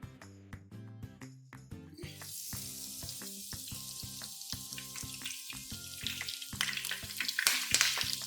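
Curry leaves dropped into hot frying oil for a vegetable pakora garnish burst into a loud, crackling sizzle that builds and stays dense, with soft music running underneath.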